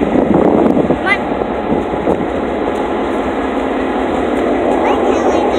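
Steady rumble of a train rolling along rails, loud and continuous, with wind noise and a voice talking over it.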